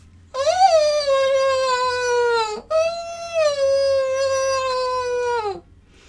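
A human voice imitates a fox, squeezing the throat to resonate sound in the nose, with two long, nasal, whining cries that slide downward in pitch, separated by a brief break.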